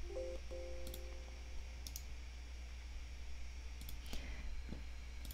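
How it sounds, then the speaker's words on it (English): A couple of faint, sharp computer mouse clicks stand alone over a low, steady electrical hum, with no voices. "Right click."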